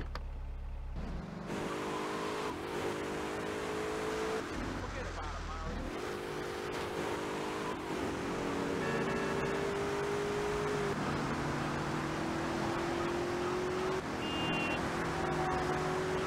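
Car engine in GTA Vice City, a droning motor that rises and shifts pitch through several gear changes, mixed with game sounds and someone talking.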